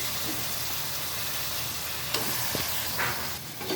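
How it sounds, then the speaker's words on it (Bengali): Washed broiler chicken pieces go into a hot pan of oil and spices with coriander powder for korma, giving a steady, close, broadband sizzle with a few stirring knocks near the end. "এখন দিয়ে দিব ধুয়ে রাখা মাংসটা।"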